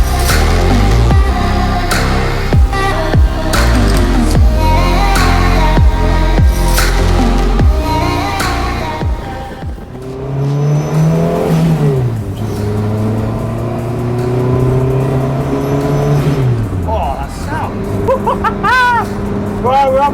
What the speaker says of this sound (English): Race car, Renault 5, and on a racetrack.